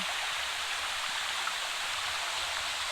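Water pours down from forested hills near the Gubbala Mangamma Thalli temple on the Andhra Pradesh–Telangana border, a steady close rushing hiss with no break and no voices.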